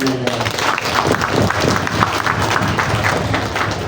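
Children applauding during a Quran completion ceremony at a Quran learning center, a loud, continuous patter of many small hands clapping together close by, with a few voices mixed in.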